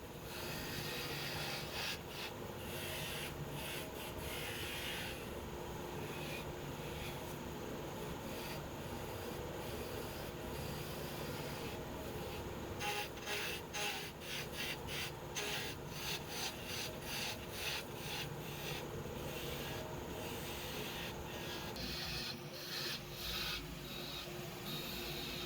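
Wood lathe spinning at roughly 2,500 to 3,000 rpm while a small spindle gouge turns a wooden neck and head, giving a steady, close, continuous scraping hiss with a constant motor hum and brief rubbing bursts throughout.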